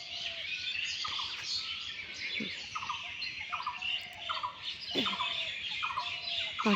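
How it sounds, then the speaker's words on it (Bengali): Morning birdsong outdoors near a mango tree, several birds chirping and squawking in repeated short calls at moderate distance over a soft ambient background, with no talking. "এই পাখির কিচিমিচি শব্দ মাশাআল্লাহ, কত সুন্দর কিচিমিচি শব্দ"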